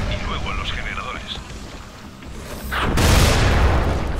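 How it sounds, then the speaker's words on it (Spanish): Explosions in the video game Dying Light: a broad, loud rumbling burst swells in near the end, following a quieter stretch of game sound effects. "Ha explotado uno, que a su vez ha explotado a otro y me he comido las dos explosiones."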